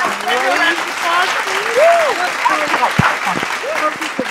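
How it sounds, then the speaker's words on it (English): An audience gives a round of applause. Clapping runs steadily under overlapping chatter and exclamations from people nearby. "Everybody give her a round of applause"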